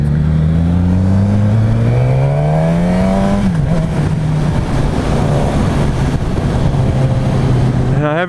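Riding a 2016 Suzuki GSX-S1000 on a test ride, the engine revs loudly and close with rising, shifting pitch. A brief drop comes midway, then a steady drone follows under heavy wind noise.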